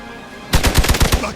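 A rapid burst of about seven close, loud gunshots in Marvel's Midnight Suns breaks a quiet hum and fires in an even rhythm.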